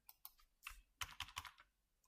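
Keys on a computer keyboard are tapped, including Ctrl+C, to interrupt a running script: a few quick, close, crisp clicks, then a tight burst of four or five strokes, with no talking.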